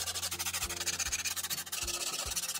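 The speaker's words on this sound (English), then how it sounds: "Okay, I got it sanded down" Sanding along the edge of skateboard grip tape on a 7.75 deck, a loud, continuous scraping rasp with rhythmic back-and-forth strokes and a few thumping knocks, with no talking.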